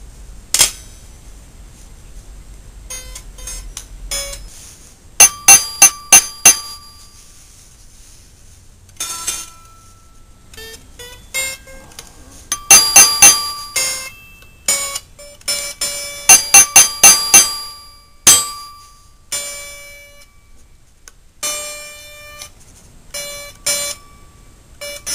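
Pentatonic Kinder lyre harp strings and a xylophone bar sound in turn for tuning to D, with bright bell-like plucks and mallet strikes coming in scattered bursts and repeated clusters over near silence.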